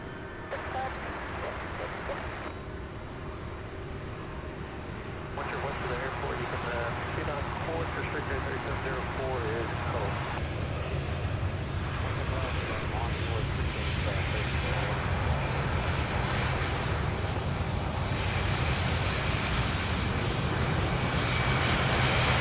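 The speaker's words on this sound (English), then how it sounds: "just as the 767 is getting ready to land on 35 right" A Boeing 767 jet lands on runway 35 right at SDF, its engine roar loud and continuous and swelling as it nears, with voices talking over it.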